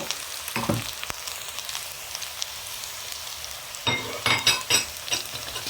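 Garlic cloves sizzling and frying in a pan as they are stirred among softened, browned ingredients, with a steady crackle and a few louder stirring scrapes near the end; no one speaks.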